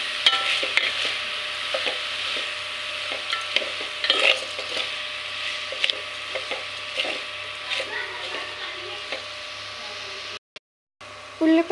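Onions with salt are stirred in a cooking pan, with soft scraping strokes over a continuous sizzle and a faint background voice, then a brief dropout near the end.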